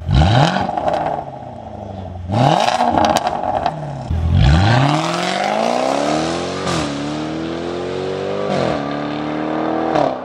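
A 640-horsepower Jaguar Project 8 engine revs hard several times from outside, rising sharply and dropping, then a long climbing acceleration with gear shifts, loud and close.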